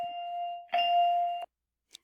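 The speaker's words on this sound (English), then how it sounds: "Since the bell went off" A school bell rings in a classroom during a Spanish lesson, a steady sustained electronic tone with a brief louder burst midway, cutting off sharply after about a second and a half, followed by a short faint click.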